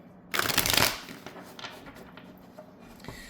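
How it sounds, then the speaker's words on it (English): Tarot cards are shuffled in a quick riffling burst that rises and fades, followed by softer handling noises and light taps, close and fairly quiet, with no talk. "I'm shuffling"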